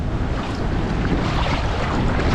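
Rough, wild ocean surf along the Bass Strait coast near a rock pool, a loud, dense roar of breaking water buffeted by wind noise on the microphone, with no voices.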